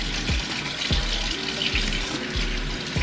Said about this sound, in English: the cucumber, rinse it off real good